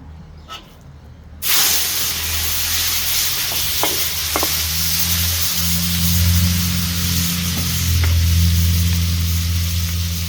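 Beef hitting a very hot wok for stir-fried beef in oyster sauce, bursting into a loud, dense sizzle that holds steady and close, with a few light utensil knocks.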